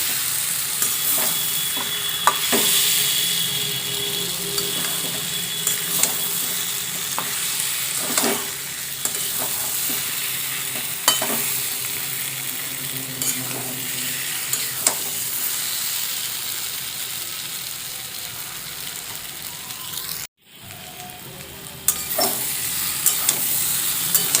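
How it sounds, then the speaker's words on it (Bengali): Fried potatoes and pointed gourd are cooked down with spices in a pan, a long steady sizzle broken by repeated scraping stirs and spatula knocks, with a brief dip near the end, no speech. "আলু আর পটল মশলার সঙ্গে খুব ভালোভাবে কষিয়ে নেব।"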